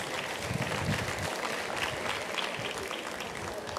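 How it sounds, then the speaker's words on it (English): An audience at a school Indus Day event claps in sustained, dense applause, steady and fairly loud from start to finish with no voices on top. "Ladies and gentlemen, please give her a huge round of applause."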